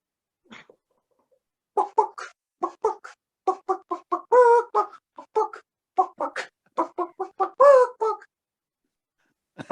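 A human voice imitates a chicken at a disco, with rhythmic bursts of clucking and squawking set in a quick, dance-like beat, close and alone against silence.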